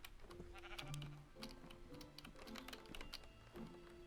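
Sheep bleat in a video game, short tonal cries over a busy bed of rapid keyboard clatter and game sounds, fairly close and steady.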